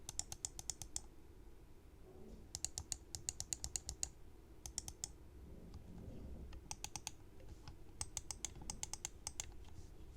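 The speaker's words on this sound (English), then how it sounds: "here's a quick sound test of the buttons in use" Buttons on a white Razer DeathAdder Essential gaming mouse click in quick bursts of sharp, light taps. Short pauses separate the runs, and the clicks sound close and fairly quiet against a soft background.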